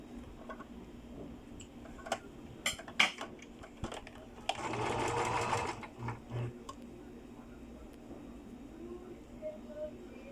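Sewing machine stitching a skirt, with a few scattered clicks and handling taps leading into a steady whirring run of stitches lasting a second or so, then stopping amid soft fabric handling in a quiet room.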